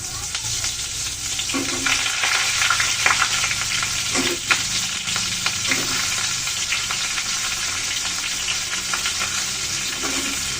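Vegetables frying in hot oil tempered with spices, cooked with cauliflower, potato and tomato for a tengra fish curry; a continuous close sizzle with intermittent stirring scrapes and thumps, no speech.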